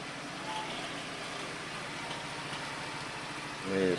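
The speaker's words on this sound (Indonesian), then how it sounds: "Ini suara berisik di CVT nih, berisik banget." Honda Vario scooter idling with a noisy CVT, a steady close mechanical drone and rattle holding level throughout, with a brief louder swell at the very end.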